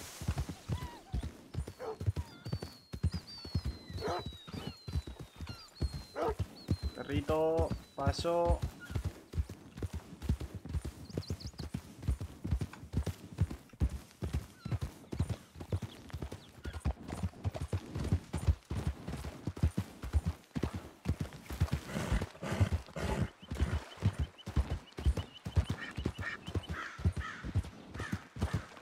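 Horse hooves clip-clopping steadily through the RedM (Red Dead) roleplay game world, with crows cawing in the background and a voice speaking briefly over the hoofbeats.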